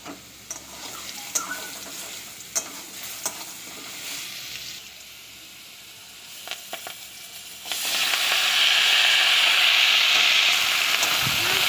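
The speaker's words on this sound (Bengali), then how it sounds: "কড়াই তেল দিয়ে দিলাম পরিমাণ মতো তেল দিয়ে লাউ আলুগুলোকে প্রথমে দিয়ে একটু ভাজা ভাজা করে নেবো" Potatoes fry in oil in a wok with gentle sizzling and a few clinks of stirring, then the hiss swells abruptly into a loud, steady sizzle for the last few seconds.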